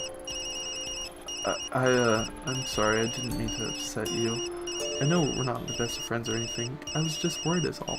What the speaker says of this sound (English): Also, my phone is ringing.